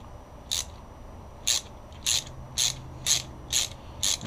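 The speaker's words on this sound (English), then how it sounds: "Let's put a ratchet on here." A ratchet wrench clicks in seven short, evenly spaced bursts while threading the pin screw of a D815 dog bone, close and alone over a quiet background.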